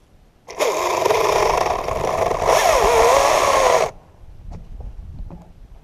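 Chainsaw making a felling cut into a beetle-killed tree beside an aspen, a loud steady whine with the pitch wavering as the bar bites, then cutting off abruptly to quiet woodland ambience with faint knocks.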